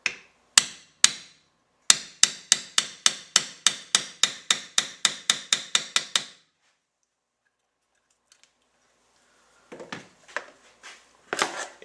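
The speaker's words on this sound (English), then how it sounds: "As you're driving the pin in, you want to be careful that you don't drive the steel out of the plastic bushing." A hammer drives a steel pin into a plastic bushing on the brush holder of a B-2 edger: a rapid, even run of about twenty sharp, close metallic strikes, then a pause and a few softer knocks and handling sounds.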